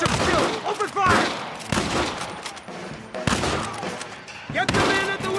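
Gunfire from a Red Dead Redemption outlaw shootout with a hostage, heard as dense, loud bursts of overlapping shots and impacts recurring every second or so, mixed with shouted voices and action music.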